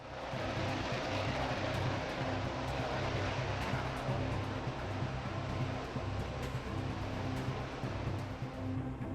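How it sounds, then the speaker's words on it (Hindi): Chinese fighter jets flying near Taiwan, a continuous broad roar of constant loudness with no distinct pass-by swell and no voices. "एक तरफ आसमान में एक के बाद एक लड़ाकू विमानों की तस्वीरें"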